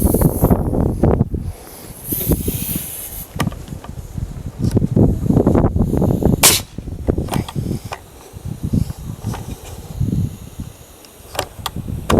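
Gusty wind buffeting the microphone in uneven bursts, with rustling and a few sharp knocks at a woodshop while a shed roof is being worked on; no talking.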